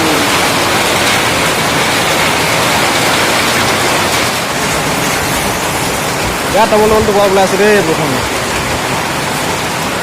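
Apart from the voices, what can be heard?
heavy rain pouring down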